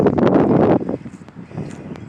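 Outdoor wind gusts buffet the microphone on a breezy morning with a flag blowing, a loud rumbling rush at first that drops to a softer, steadier breeze.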